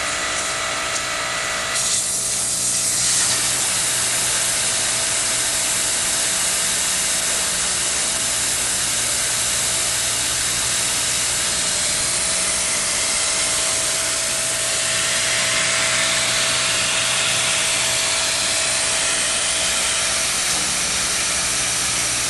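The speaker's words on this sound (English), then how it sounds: "always remove the valve core and deflate the tire completely" Air rushes steadily out of a tire on a Coats tire changer after its valve core is pulled, a loud, continuous close-up hiss that barely changes over more than twenty seconds.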